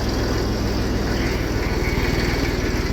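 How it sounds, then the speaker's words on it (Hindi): A small Massey 35 tractor engine running at low speed, a loud, close, steady diesel chug with a fast regular knocking pulse and a rough mechanical rattle over it. "दोस्तों कर लिया है ट्रैक्टर स्टार्ट सुबह सुबह।"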